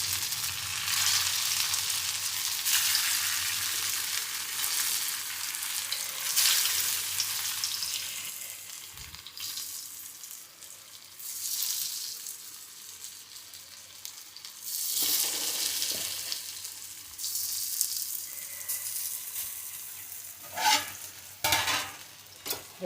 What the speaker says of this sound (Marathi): आता हे फ्राय करायचं बघा.